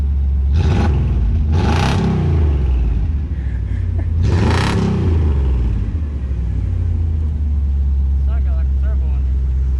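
A big 350 V8 car engine idles with a deep, steady rumble and is revved up hard several times. Each roar rises and falls, with a voice talking faintly underneath.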